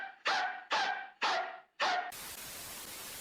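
Person in VRChat imitating a dog, four sharp bark-like yelps in quick succession, close and loud, then a burst of static hiss. The voice imitates the barking.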